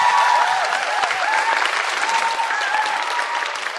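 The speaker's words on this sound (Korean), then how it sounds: "다시 한번 큰 박수 부탁드리겠습니다" An indoor audience at a small Korean music stage claps warmly, a dense, continuous round of applause with a few whoops over it, steady throughout.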